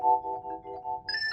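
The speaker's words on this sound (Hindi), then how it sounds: "धर्मपाल जी को फोन करता हूँ" A telephone ringtone plays a steady electronic tone pattern, a short repeating ring heard alone and fairly clearly.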